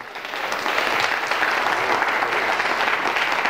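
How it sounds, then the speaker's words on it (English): Sustained applause from a college chapel audience, a thick wash of many hands clapping that builds briefly and then stays even and full throughout. "A round of applause."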